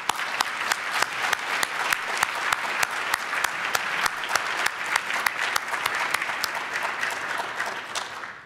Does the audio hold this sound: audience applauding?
yes